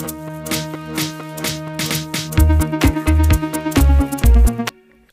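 A snare hit layered with a shaker and a sample builds a transition in an electronic music track, with steady bright percussion over sustained synth tones and heavy low bass swells near the end before a sudden stop.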